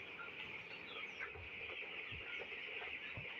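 Broiler chickens cluck steadily in a poultry shed, a dense overlapping flock chorus with occasional louder individual calls close by and no talking.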